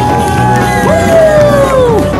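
Circus audience at a centenary show with a trained miniature horse, cheering and whooping loudly in one sustained swell, a rising and falling shout carrying over the crowd noise.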